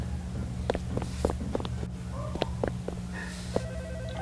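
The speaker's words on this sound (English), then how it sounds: "Oh, the phone is ringing." A telephone rings in a horror video game, a faint electronic ring repeating under a steady low hum with scattered clicks, no voices over it.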